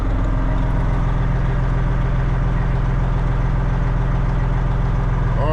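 Old semi-truck diesel engine idling, a loud steady low rumble with a pulsing throb that continues without a break, heard up close with no talk.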